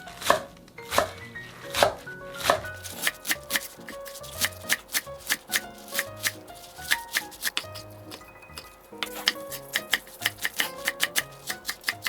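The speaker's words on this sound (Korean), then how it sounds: "1cm 정도로만 썰어주세요" A knife on a cutting board cuts green onions into 1 cm pieces for traditional kimchi seasoning. The chops come crisp and close, in quick uneven runs of rhythmic taps with brief pauses, and no one talks.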